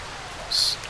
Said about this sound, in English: The sound of the rain is also particularly well done.